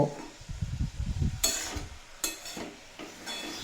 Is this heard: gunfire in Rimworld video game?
no